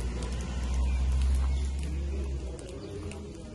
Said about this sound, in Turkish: Bir anda aşırı derecede yağmur, dağımızı su bastı.